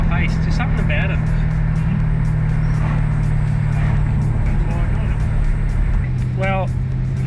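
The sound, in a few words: Ford XR8 V8 car engine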